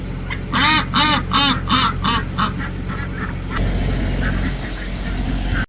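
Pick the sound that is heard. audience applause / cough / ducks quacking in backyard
ducks quacking in backyard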